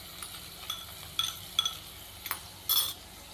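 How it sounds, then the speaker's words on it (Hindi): Chopped onions going into lightly heated oil in a pan while cooking bread samosa filling, heard as a few short clinks and scrapes followed by a brief burst of sizzle, close and moderate. "ऑयल हमारा हल्का सा गर्म हो चुका है, तो अभी हम इसके अंदर प्याज शामिल कर देंगे।"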